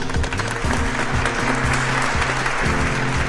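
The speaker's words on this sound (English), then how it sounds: "The crowd goes wild." A crowd applauds wildly, with dense, loud clapping sustained throughout and steady tonal music sounding beneath the ovation.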